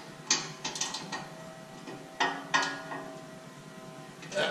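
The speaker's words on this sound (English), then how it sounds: "This takes a 14mm socket, so just check those real quick." A ratchet with a 14mm socket checking exhaust bolts on a Toyota Tacoma with an MBRP exhaust gives several short clicking bursts with pauses between them, close and moderately loud, and no talking.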